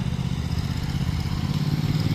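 A motorcycle riding a tight figure-eight exercise at a rider safety training, a close steady engine rumble with slight throttle pulsing, no talking.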